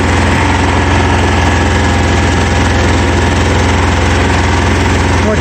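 A Simplicity 5116 small tractor engine idles steadily up close outdoors, a constant rumbling drone with gusty wind noise mixed in.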